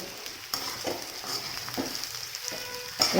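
Sabudana khichdi with peanuts is stirred in a hot pan over medium gas, a low continuous sizzle punctuated by repeated scraping strokes, close and unaccompanied by speech.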